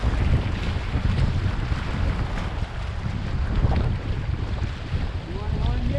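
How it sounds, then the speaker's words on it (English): Wind buffeting the microphone while boating down the Maitland River, a steady low rumbling roar with gusty swells, close and loud throughout. "A little wind in our face, but not too much."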